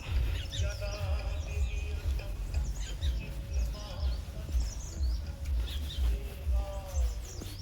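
Birds chirping near a Shiva temple in Himachal Pradesh, scattered quick calls and trills over a low rumbling background hum, fairly faint and sporadic throughout.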